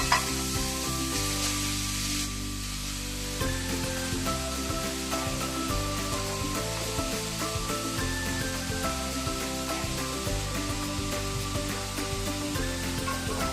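Grated carrot sizzles in a large kadhai for carrot halwa, a steady frying hiss with faint stirring scrapes running unbroken throughout, close and moderately loud, no one talking.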